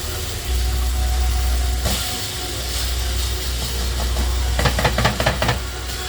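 Steak sizzles as it sears in a hot pan, a steady broadband hiss with a low hum underneath and a few sharper crackles and taps near the end.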